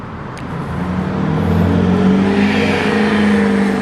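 A car fitted with a new aftermarket exhaust accelerates from a low rumble into a rising, throaty drone that grows louder and holds steady, heard close from inside with no talking.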